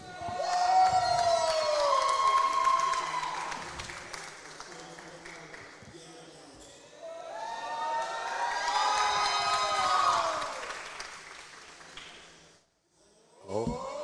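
Fans cheer and shout loudly at a collegiate Battle for Florida grand final as USF lifts the trophy, the crowd roar swelling twice with whistles and high voices before briefly dropping near the end.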